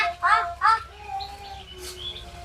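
A watercock gives a few short chirping calls close by, followed by thinner whistled notes, with faint background voices.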